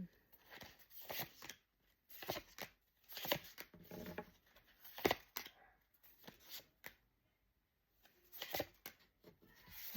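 Crisp riffling bursts of cards being shuffled, repeated in several quick rounds with short pauses between, close and fairly quiet.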